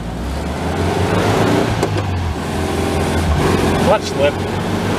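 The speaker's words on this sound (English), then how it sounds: "Clutch slip." A 1974 VW Thing with a slipping clutch pulls away, its engine droning and rising in a low, steady hum under nearby talking, with a couple of brief squeaks near the end.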